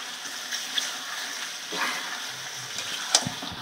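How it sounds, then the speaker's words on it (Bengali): Large pieces of meat sizzling and being stirred in spices in a pan, a soft steady frying hiss with occasional scraping clatters of the spoon. "এবার এইটা দিয়ে আমি ভালো করে কষিয়ে নেবো।"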